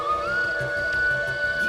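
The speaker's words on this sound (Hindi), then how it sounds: "ये तो बांसुरी की आवाज है।" A sustained, steady bamboo flute tone holds one pitch throughout, fairly clear over a low, muffled background rumble, at night in a forest.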